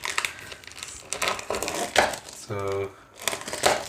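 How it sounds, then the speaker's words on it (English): Packaging for an iPad case is crinkled and cut open by hand with scissors, giving bursts of crackling plastic and a short scraping tear. A voice speaks briefly. "we have to cut this also to open it."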